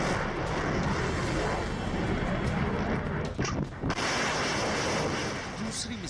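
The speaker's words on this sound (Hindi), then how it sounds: "प्रशांत महासागर के सीने को चीरती रूस की मिसाइलें।" Russian missiles launching over the Pacific Ocean, a dense continuous roar filling the whole stretch, loud and close, with a brief dip and sharp burst near the end.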